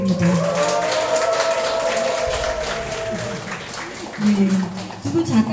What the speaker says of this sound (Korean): 조준 작가님께 다시 한번 큰 박수 부탁드립니다.